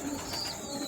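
Teddy pigeons in a breeder's loft cooing softly and continuously, a low, steady murmur with no voices over it.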